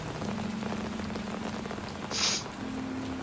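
Steady rain falling in the Batman Telltale Series video game, a dense close hiss of drops on surfaces, with a faint low hum and a brief higher splash near the end.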